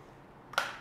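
An egg cracked against a bowl edge for custard cake batter makes a single sharp, close crack followed by a short wet spill in an otherwise quiet kitchen.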